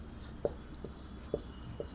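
A pen writes an answer by hand on paper during a Class VI Hindi lesson, making faint, close scratching strokes with a few sharper taps under a quiet background.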